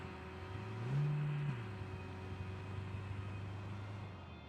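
A car engine in PUBG Mobile hums steadily, rising briefly in a revving surge near the start before settling into an even drone, with no talk over it.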